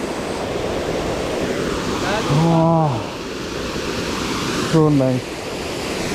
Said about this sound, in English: now I'm standing here on top of the waterfall.